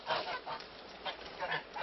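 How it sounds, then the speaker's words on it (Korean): Geese honk several times in short bursts close by as feed is poured out for them on returning home, a brief, faint, rhythmic series of calls. "집으로 돌아온 거위들을 위해 사료를 부어주는데요."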